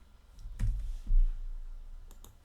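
A few crisp computer mouse clicks land close by over a low background hum, with sparse taps spread unevenly across a couple of seconds.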